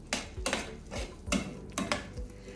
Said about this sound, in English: I'm just going to kind of stir these around a little bit